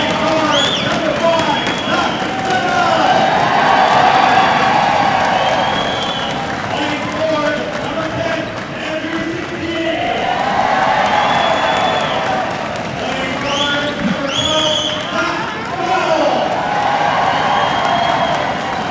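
A packed arena crowd at the CCAA men's basketball national championship game, Mohawk versus Champlain, roaring and cheering loudly in sustained swelling waves, with shouts and whistles rising above the din and an announcer's voice talking over it.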